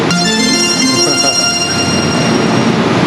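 Mexico City subway train running, a steady loud rumble with faint metallic wheel tones throughout, heard from on board with no talking.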